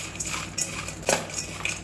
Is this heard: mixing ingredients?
yes